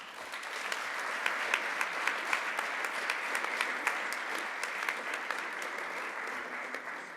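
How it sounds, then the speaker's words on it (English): At a robotics awards ceremony, an audience gives steady, sustained applause for the finalists: a dense, even wash of clapping with a few sharper individual claps standing out, heard at a moderate distance. "please also applaud DEPLOYA and SIMOBOTICS as finalists"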